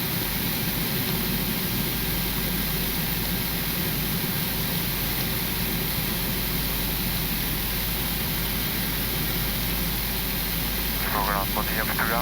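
Boeing 777-300ER engines heard from inside the cockpit at Lisbon during the left engine start, a steady broadband roar and hum filling the cabin with radio and crew talk over it.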